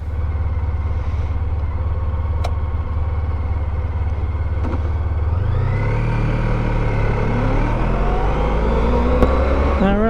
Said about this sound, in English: we are now out on the bike.